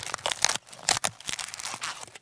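Styrofoam compartment plate being cracked and crunched to imitate breaking wood, a quick series of sharp snapping and crinkling cracks, close and fairly quiet.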